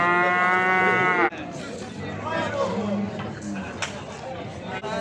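A cow at a Beyləqan livestock market gives a long, loud moo that ends abruptly, followed by a busy murmur of market crowd and voices nearby.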